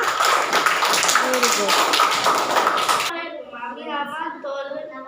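A class of schoolchildren claps together for a classmate, a dense burst of applause lasting about three seconds that stops abruptly, after which an adult voice speaks.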